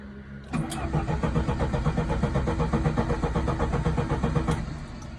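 An overheated car engine cranks steadily after a starter click, the rapid rhythmic churning of the starter motor going on for several seconds without the engine catching, close and loud.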